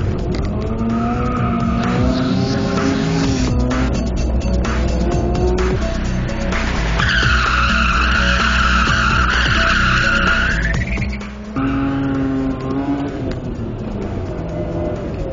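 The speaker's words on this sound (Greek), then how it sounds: "Ποια είναι η τεχνική που προτιμάς για να υπερστρέψεις το αυτοκίνητο?" A rear-wheel-drive car oversteers and skids with continuous tire squeal over a revving engine. The sound is loud and sustained, with the pitch rising sharply in the middle of the slide before dropping back.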